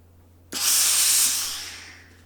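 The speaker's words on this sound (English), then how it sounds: "Just steam." A steam iron releases one sudden, loud burst of hissing steam while pressing a sleeve seam at the armhole, then tapers off over about two seconds above a steady low hum.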